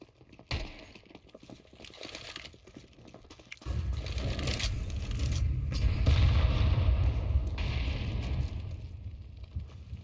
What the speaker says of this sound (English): Same barrage of utilities over towards the banana again with the Molotovs and frags